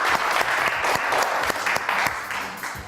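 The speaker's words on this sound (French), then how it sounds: "Oui, vous pouvez applaudir, allez-y." A studio audience at a French comedy news show breaks into applause, a thick, lively clatter of many hands with sharp individual claps standing out, loud and sustained throughout.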